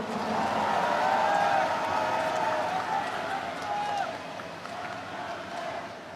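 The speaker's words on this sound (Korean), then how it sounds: "박찬대 후보에게 아낌없는 박수를 부탁드립니다." A large party convention crowd applauds and cheers for candidate Park Chan-dae after a leadership race, a steady wash of clapping and voices that swells early and slowly fades.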